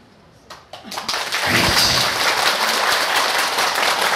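An audience at a laughter yoga talk breaks into applause, starting with a few scattered claps that quickly swell into steady, dense clapping filling the room.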